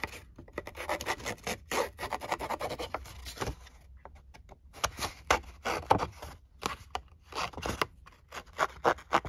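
Edges of junk journal paper roughened with a scraping tool, giving close, uneven bursts of rasping and scratching strokes separated by short pauses, with no talk.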